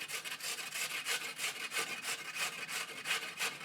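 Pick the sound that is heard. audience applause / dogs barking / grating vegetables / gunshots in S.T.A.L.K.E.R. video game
grating vegetables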